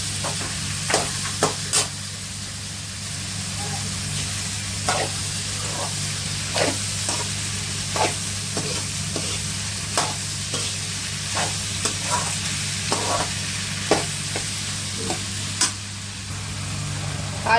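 Tomatoes fry with ginger and garlic in oil, giving a steady sizzle while a spoon scrapes and stirs the pan in repeated sharp clicks throughout.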